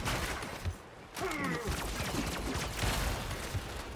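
Automated turrets open fire in the multiplayer game Eternal, dense bursts of rapid gunfire layered over a busy game soundscape, with a brief lull before the shooting resumes.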